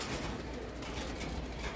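Pigeons coo softly in a short burst amid a noisy outdoor hiss, with a faint rustle that may come from birds in flight.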